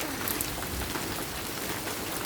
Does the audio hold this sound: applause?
no